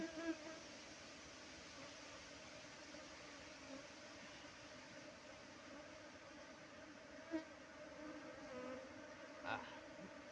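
A steady, dense buzzing of many bees fills the air continuously at moderate level, with a couple of faint brief knocks.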